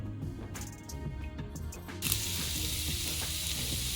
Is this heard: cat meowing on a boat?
no